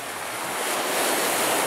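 Waves break and wash along the shore of Lake Superior on a hiking trail, a continuous hissing surf that swells slightly louder, with some wind and no talking.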